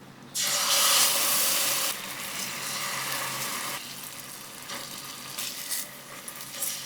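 Pork marinated for three hours sizzles loudly in a little oil, a sharp hiss bursting in as it hits the pan, then settling into a steady, slightly quieter crackle that continues alone.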